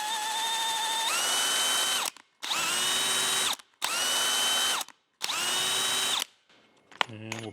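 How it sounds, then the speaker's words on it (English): A power drill spins a brass steam-whistle valve for lapping in four separate bursts of high motor whine, each a second or so long with short silent gaps between them, followed by brief clicking and handling noise. "I'm going to put this valve into this drill"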